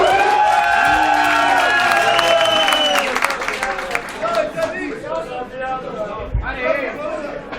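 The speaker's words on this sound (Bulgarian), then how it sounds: "Аплодисменти!" Applause and cheering from a DJ competition crowd: loud shouts and whoops over clapping that start strong and gradually thin out, with voices calling throughout.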